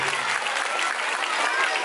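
Audience applause at a magic show fills the whole stretch, a dense, steady wash of many hands clapping with no pauses.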